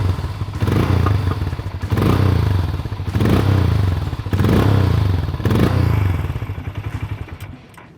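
A Hero Mavrick 440 motorcycle's engine and exhaust thump deeply and steadily, loud and close, rising and falling in several revving swells before easing off at the end.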